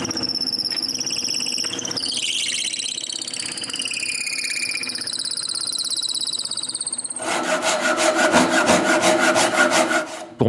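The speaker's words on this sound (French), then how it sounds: "Je le mets donc sur le tour à bois et je perce un trou qui sera mon pivot." Drilling a hole into wood turning on a wood lathe for a pivot, heard as a steady rubbing, squealing cut with rising pitch tones, then a louder, harsher rhythmic grinding near the end.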